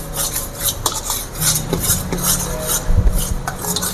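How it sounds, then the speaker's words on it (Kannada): A besan laddoo mixture is stirred continuously in a pan, producing steady scraping and clinking of a spoon against metal in an irregular rhythm, close and fairly loud, with no voices. "ಕೈ ಬಿಡ್ದಿರ ತಿರುಗಿಸ್ತಾ ಇರಬೇಕು."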